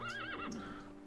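A horse in the Reverse:1999 video game lets out a short, rising-and-falling whinny, heard close and on its own.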